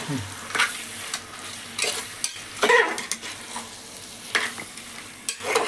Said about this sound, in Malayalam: ഇളക്കിയിട്ട് മൂടി വെക്കട്ടാ